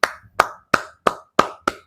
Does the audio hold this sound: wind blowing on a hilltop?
no